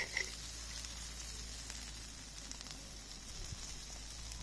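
Chicken liver frying on an iron pan, a continuous soft sizzle with faint crackles, close and fairly quiet, with a small clink at the start and no speech.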